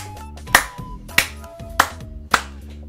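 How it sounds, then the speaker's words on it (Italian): Four sharp claps ring out at an even pace over a soft musical background. "applauso."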